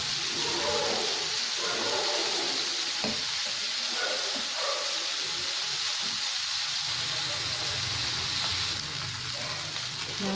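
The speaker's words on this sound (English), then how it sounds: "Now you can see the fish is getting cooked." Silver fish frying in a pan, a steady loud sizzle and hiss running throughout, with faint stirring and shifting sounds underneath.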